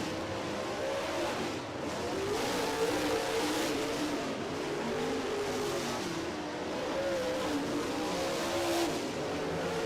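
MARS Late Model race cars at Belle-Clair Speedway rumble steadily as they line up before a race, their engines making a continuous moderately distant drone that rises and falls slightly.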